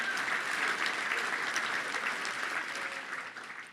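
A luncheon crowd at the Little Rock Touchdown Club applauds the Lieutenant Governor, steady close clapping from many hands that holds for a few seconds, then thins and fades near the end.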